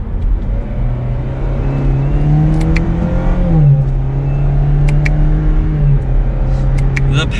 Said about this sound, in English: we can go down to second gear, give it a little bit of gas